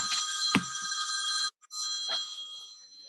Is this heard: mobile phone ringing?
yes